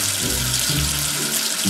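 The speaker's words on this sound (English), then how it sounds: "Wash away the soap with water." Tap water runs steadily to rinse soap away, a continuous loud, close rushing hiss with no pauses and no voices.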